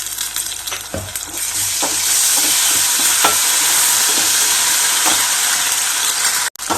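Chopped onions sizzle loudly in a hot pan after ginger garlic paste goes in for a spinach curry, a steady frying hiss broken by soft scraping stirs, then a brief drop near the end.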